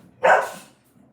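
A single short bark from a dog, fairly close and moderately loud, rising sharply and fading over about half a second against a quiet background.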